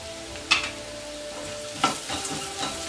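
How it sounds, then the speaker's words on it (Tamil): Flattened rice upma is stirred in a hot pan, soft frying sizzle broken by two distinct spoon scrapes against the metal. "இது கொஞ்சம் நல்லா கிளறி விட்டுக்கலாம்."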